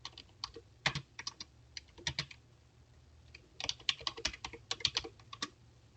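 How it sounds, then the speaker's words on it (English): Typing on a computer keyboard in a Zoom chat box, a quick irregular run of close, crisp key clicks in two bursts with a short pause between, alone in a quiet room. "You can type something here."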